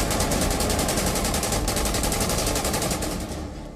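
Rapid gunfire crackles from CCTV footage of a shooting, a dense burst of overlapping shots fired in quick succession for several seconds, loud and harsh before tailing off at the end.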